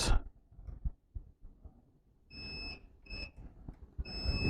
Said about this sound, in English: You can hear the beep